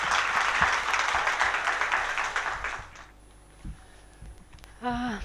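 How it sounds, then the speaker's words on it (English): Audience at a media launch event in Bangalore applauds a speaker with a dense burst of clapping that stops abruptly after about three seconds, leaving a quiet room and then a voice. "we should give him a big round of applause"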